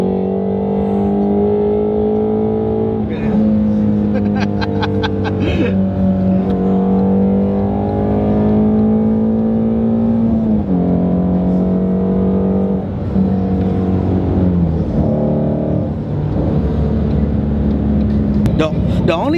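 A Ford Shelby GT350 driving hard on curvy roads, its engine droning steadily with pitch rising and falling through repeated shifts and throttle changes, heard from inside the car over about twenty seconds.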